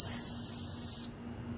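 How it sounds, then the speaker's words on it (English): A small plastic survival whistle from a compact survival kit is blown once, giving a piercing, steady, shrill tone that lasts about a second and then cuts off abruptly, close and fairly loud. "Little whistle. I think it's plastic."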